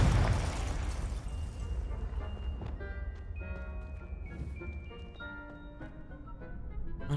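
A Confringo fire spell explosion from the video game Hogwarts Legacy: a loud, booming blast at the start that fades into crackling, ringing magical debris and scattered pops, with no talk.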